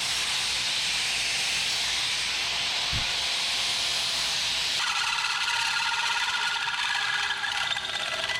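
A plasma cutter slices through 11 gauge steel during fabrication work on a 1980 Chevrolet 4x4, giving a loud, steady hiss with a sharp click early on and a shift in tone partway through.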